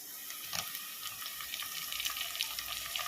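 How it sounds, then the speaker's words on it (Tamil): Chopped tomatoes frying in a pan with ginger-garlic paste for an old-style prawn curry, giving a continuous hissing sizzle with scattered crackles throughout, steady and close. "தக்காளி போட்டு நல்லா வதங்கணும்"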